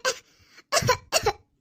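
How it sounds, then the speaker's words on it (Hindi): A child coughs three times in quick succession, close and fairly loud, with brief pauses between the dry, harsh bursts. "पता नहीं क्यों उसे खांसी लग गई है बहुत ज्यादा"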